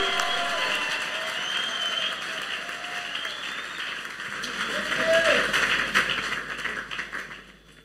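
Applause and cheering from a church anniversary audience, a dense continuous clapping wash with shouts that swells around the middle and fades toward the end, with voices mixed in.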